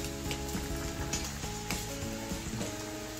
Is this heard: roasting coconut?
yes